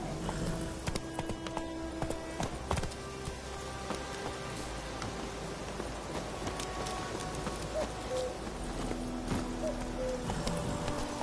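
In The Witcher video game, a horse's hooves clip-clop at a steady walking rhythm, fairly soft against outdoor ambience.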